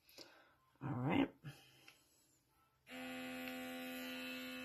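Rechargeable UMICKOO facial cleansing brush with blackhead suction switches on after a few brief handling noises, then holds a steady, close electric buzz to the end.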